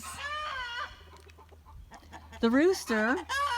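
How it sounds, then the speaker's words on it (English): Chickens cluck and squawk nearby in short, rising bursts, with a low steady hum underneath and brief pauses between calls. "the chickens are in there and they're clucking for a reason"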